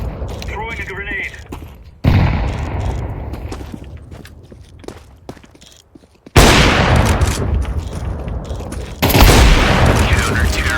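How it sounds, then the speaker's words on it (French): A grenade blast in the video game CS:GO booms out amid a stretch of gunfire, with sharp loud bursts and shooting carrying on after the explosion. "Throwing a grenade"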